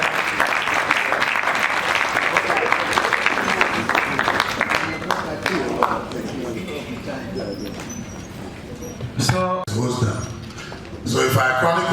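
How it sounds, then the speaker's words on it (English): Applause from a congress audience rings out strongly at first, then thins into scattered claps with voices murmuring, before a final burst of clapping returns near the end. "Please, more round of applause for His Excellency."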